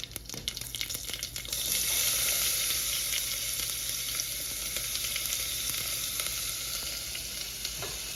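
Onions are frying in a pan with curry leaves, making a loud, close, continuous sizzle that swells after a brief stirring clatter and then stays steady with occasional light scrapes.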